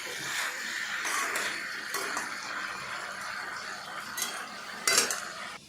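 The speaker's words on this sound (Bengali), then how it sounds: "দু মিনিট 3 মিনিট ধরে নাড়বেন ভালোভাবে।" Katla fish head being stirred in a pan for a muri ghonto, with steady scraping and clinking of a utensil against the metal and a soft background sizzle, near and continuous, with no voices.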